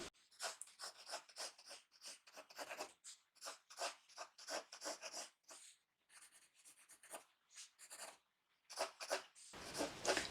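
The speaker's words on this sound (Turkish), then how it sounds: "Şu an dümdüz aşağıya çizgi indiriyoruz." A pencil draws lines on paper in short, repeated scratchy strokes, close and quiet, with brief pauses between bursts and no talking.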